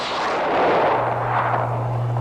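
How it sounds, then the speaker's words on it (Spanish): A laser gun fired in a Spanish radio drama about a submarine attack, a loud broad sci-fi blast with a rising electronic tone, heard alone. "El rayo láser puede destruirlos."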